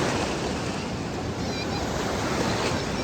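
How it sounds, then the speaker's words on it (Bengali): Ocean surf crashes and rushes steadily on the beach at Puri, a loud, continuous wash of breaking waves with wind noise on the microphone. "কি ঢেউ, দুর্দান্ত ঢেউ।"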